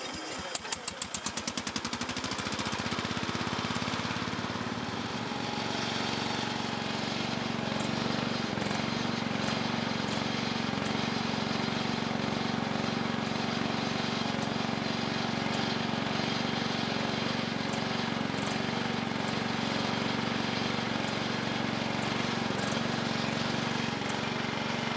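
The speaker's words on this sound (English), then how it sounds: "that was just a little test to see how well the tractor dump bed would work, and I could tell it was struggling with lifting that load of mulch" A tractor dump bed labours to lift about a hundred pounds of well-composted mulch, giving a steady, moderately loud engine drone that holds for the whole stretch after a brief clatter at the start.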